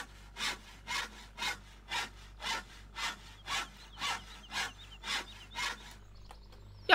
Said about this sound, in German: wir fangen jetzt mal hier mit dieser Handsäge an